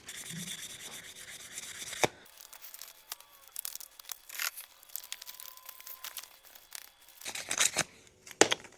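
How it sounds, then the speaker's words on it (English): Wood being hand-sanded with fine 1500 grit sandpaper during a woodworking project, steady rubbing strokes with brief pauses and a few louder scraping bursts toward the end, no talking. "now we'll sand it with some 1500 grit"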